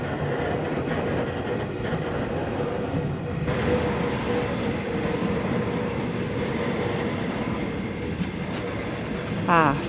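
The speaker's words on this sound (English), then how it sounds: "This Manilda train goes on forever." A long passenger train rolls past close by with a continuous heavy rumble and rhythmic wheel clatter that goes on without a break, ending in a brief squeal.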